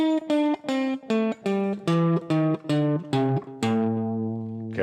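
Blues scale played on guitar, about ten clean, evenly spaced plucked notes stepping downward, the last note ringing out longer, heard alone and up close.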